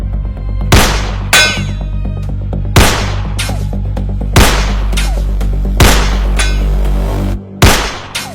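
Sharp, loud movie gunshots ring out one at a time at irregular intervals over a steady low rumble, about seven shots in all.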